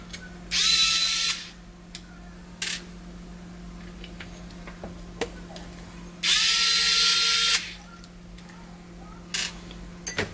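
Two loud bursts of a power driver or drill-like tool while a Feima burr grinder is taken apart to swap its burrs, each lasting about a second, with small clicks and handling noises between them.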